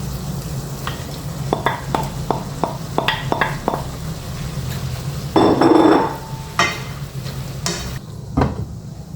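Mushrooms going into a pan for chicken carbonara, with a series of clacks and scrapes of a utensil against the pan, then a louder burst of sizzling frying before it settles down.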